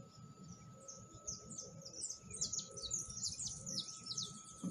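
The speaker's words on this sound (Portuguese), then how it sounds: "Olha o barulhinho dos pássaros, na natureza." Birds chirp and twitter repeatedly at a riverside campsite in Jacuí, soft and somewhat distant, over a low background hum.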